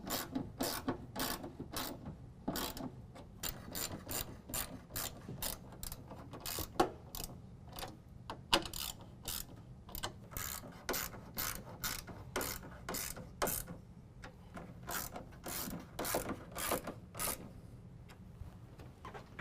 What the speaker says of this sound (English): Again, we're going to use our 3/8 socket, tighten down our bolts.